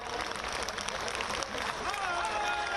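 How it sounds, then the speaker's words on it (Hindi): An audience at a party office inauguration in Varanasi welcoming J.P. Nadda with a brief burst of steady crowd applause, with a voice or crowd noise mixed in. "अपने स्थान पर खड़े होकर तालियों के गड़गड़ाहट से स्वागत करो"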